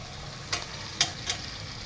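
Fried cauliflower, potato and egg pieces are stir-fried with masala in a pan, giving a soft steady sizzle with three brief scraping stirs close by.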